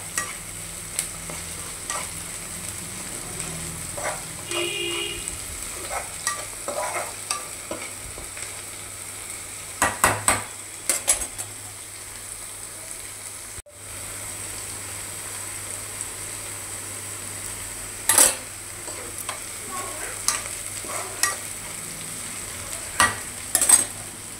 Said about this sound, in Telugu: అరటిఆకు పువ్వు చూసారా మంచిగా మగ్గుతుంది అన్నమాట మనకి.